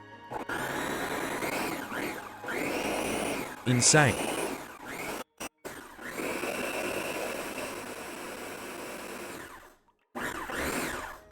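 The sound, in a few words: blender blending ingredients into a paste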